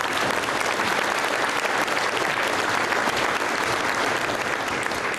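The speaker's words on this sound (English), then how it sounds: "So certainly a round of applause for their help and assistance." A banquet crowd at a school sports awards dinner breaks into dense, sustained applause, loud and continuous from start to finish with no pauses.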